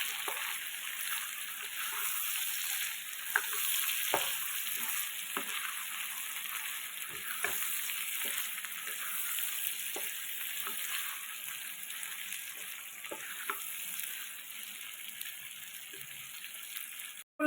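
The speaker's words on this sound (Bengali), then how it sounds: "জিরে গুঁড়োটা দিয়ে দেবো, কাশ্মীরি লঙ্কা যেটা নিয়েছিলাম সেটাও দিয়ে দেবো, দিয়ে একসঙ্গে নাড়বো" Ground cumin and Kashmiri chili frying in a pan, a soft, steady sizzle with faint intermittent scrapes and taps of stirring, quiet and continuous with no talk.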